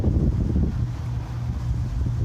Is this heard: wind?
yes